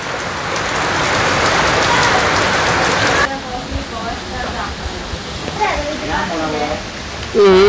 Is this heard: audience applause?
no